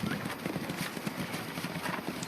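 Racehorses' hooves clip-clop steadily on the way to the start at Chantilly racecourse, a soft continuous patter of several horses at middle distance with a faint hiss of crowd and wind behind.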